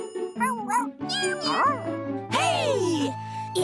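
A cartoon cat meows in a bright, sliding, voiced cry, with several short rising and falling calls heard close and loud alongside a light jingle.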